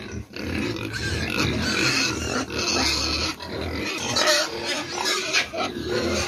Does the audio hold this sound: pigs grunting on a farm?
yes